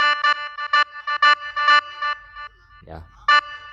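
Reverb effect on an Smk 37 audio device, heard as a series of repeated short harmonic synth-like tones played one after another, with a brief low thump near the end before one last tone.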